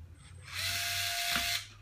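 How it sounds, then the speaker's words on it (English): A small screwdriver or driver turning a tiny screw inside an Intel NUC mini PC, a single quiet whirring burst of about a second over a faint background hum. "Just to remove this little screw here."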